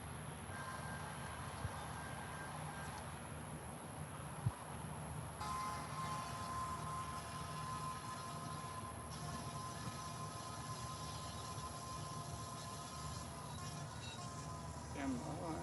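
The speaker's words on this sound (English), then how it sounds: "That was the coal train earlier." A coal train rolls past in Hammond, Louisiana, with a steady rumble of railcars, a sustained high squeal and a few wheel clanks, fairly faint, with speech-like sound mixed in.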